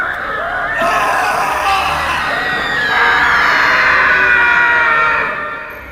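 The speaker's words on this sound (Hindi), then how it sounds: "इस चीख से तरुण का ध्यान टूटा" A long, loud scream rising and holding at high pitch, slightly swelling midway before trailing off, with a muffled crowd-like background.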